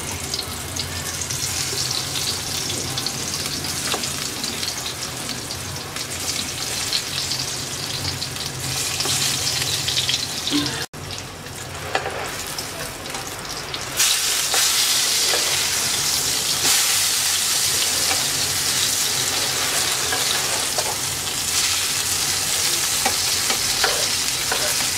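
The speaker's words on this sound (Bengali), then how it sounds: "তেলটা গরম হয়ে গেছে, দিয়ে দিচ্ছি বেগুন।" Eggplant pieces frying in hot mustard oil in a kadai on the stove, a steady loud sizzle with occasional stirring and scraping that intensifies partway through, no talking.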